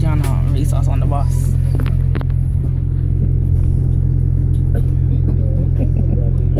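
A bus engine rumbles loud and low while racing another vehicle, a steady heavy drone with rattles on top and voices talking over it.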